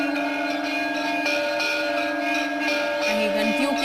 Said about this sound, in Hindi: कहीं घंटियों की आवाज, कहीं शंख की आवाज